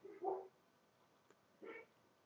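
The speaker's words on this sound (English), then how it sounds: "And I just got my dogs barking." Dogs give two short, muffled barks indoors, about a second apart, faint and somewhat distant in an otherwise quiet room.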